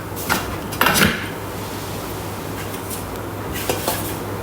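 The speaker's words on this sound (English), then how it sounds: "Now it says to scrape down the side with the spatula." A spatula scrapes down the inside of a Thermomix bowl in a few short, close rubbing strokes with light knocks. There is no talking.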